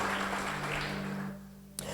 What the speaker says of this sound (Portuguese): uma salva de palmas pela vida de vocês, pessoal